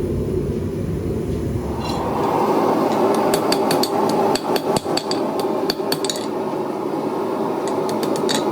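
Rapid metallic hammer blows ring out as hot steel spurs are forged, a quick series of sharp clanging strikes over a steady roar of the forge fire.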